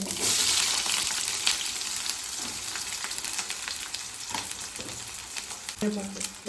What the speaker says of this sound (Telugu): ఆయిల్ వేసుకున్నాము, ఇంకా ఆవాలు జీలకర్ర చిట్పట్లు ఆడినాక ఉల్లిపాయ